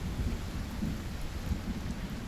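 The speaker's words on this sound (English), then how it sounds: "while the last of this storm goes by." Thunderstorm with rain in the survival video game Icarus: steady rainfall with low rolling thunder rumbling underneath, continuous and moderately quiet, no speech.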